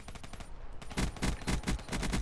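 In a video game, a burst of automatic gunfire is aimed at a killstreak in the sky. It comes as rapid, evenly spaced loud shots that start after a short gap, with no speech.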